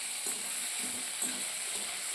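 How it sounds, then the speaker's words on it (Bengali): Prawns sizzle steadily in hot mustard oil in a kadai, a constant bright frying hiss with a few soft stirring bumps. "কয়েক সেকেন্ড ভেজে তুলে নেব।"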